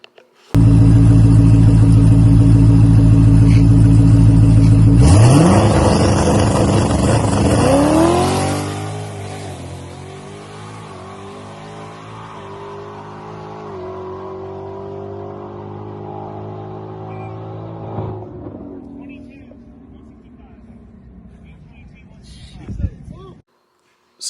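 A stock 2019 Ford Mustang GT makes a quarter-mile drag run, its engine bursting into a loud, close roar that climbs through the gears, then recedes into a fading distant drone before a final faint knock.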